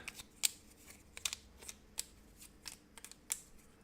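Board game cards for a solo setup of Nova Roma are shuffled up close in quick, uneven bursts of crisp riffling and snapping, quiet overall with no talking.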